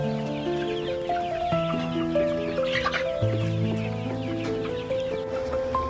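Chickens cluck on and off close by over a steady background of music or sustained tones, their calls fairly soft and partly masked.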